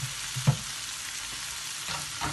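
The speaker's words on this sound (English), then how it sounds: "Tomato no need to cook too long. Just only pan fry." Tomato and apple sizzle softly in a frying pan under a steady hiss, with a few stirring scrapes and light taps of a utensil.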